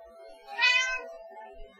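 A cat gives one short, fairly loud meow up close, rising and falling within a quiet room.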